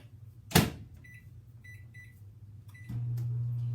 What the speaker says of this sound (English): we're going to pop this guy into the microwave for 2 minutes